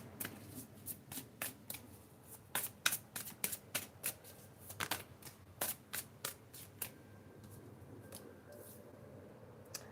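Someone shuffles a Forest Spirit Oracle card deck up close, giving a series of crisp riffling bursts and soft card slaps in an uneven rhythm, fairly quiet and without talking.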